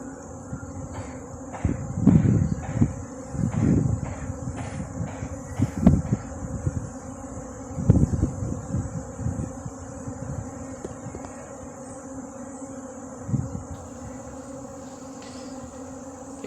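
A swarm of bees buzzes as a steady, dense drone with a high whine sustained throughout, alongside a few louder low thumps and rustles nearby and no voices.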